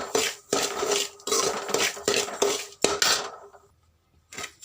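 Roasted semolina being stirred and mixed in a pan with chana dal, urad dal and green chillies, a series of close metal spoon scrapes and clinks against the pan in uneven bursts, ending in a brief quiet gap before another scrape.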